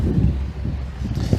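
Wind blows outdoors past the microphone, a dense low buffeting rumble that surges and dips throughout the short moment with no clear voices.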